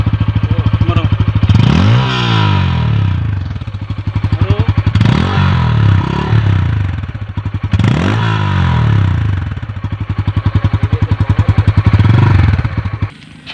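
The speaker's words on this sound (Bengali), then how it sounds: "সো গাইজ এই বাইকের আপনি ইঞ্জিনের সাউন্ডটা শুনে নিলেন, মানে এক্সস্টের সাউন্ড অনেক বেশি সুন্দর।" A Bajaj Pulsar N160 motorcycle with an underbelly exhaust runs close by, its engine loud and steady with several sharp revs that rise and fall, plus some mechanical clatter, alone without talk.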